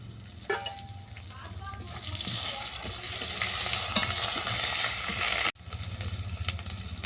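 Browned taro frying in a pan as ginger paste goes in and is stirred, a rising sizzle with scraping stirs, a sudden brief cut near the end, then the frying resumes; a voice speaks faintly early on.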